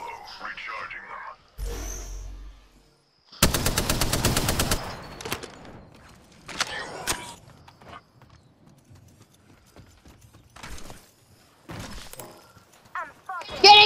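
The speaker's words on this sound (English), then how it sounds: "Getting shot at! Getting shot at!" Automatic gunfire in the Apex Legends video game: a long rapid burst of shots, followed by scattered single cracks, clicks and thumps, with gaps of near silence and short vocal sounds between.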